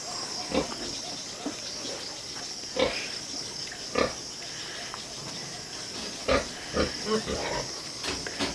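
Pigs in a piggery, among them sows, give scattered short grunts, some close and loud, others softer, over a steady insect-like hiss in the background.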